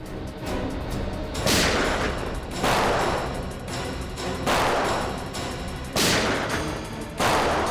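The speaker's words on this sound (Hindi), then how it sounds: "यहाँ फायरिंग हो रही है" Bursts of gunfire in a TV crime drama raid scene crack out in repeated volleys, each loud blast followed by a short gap, with a rumbling background between the shots.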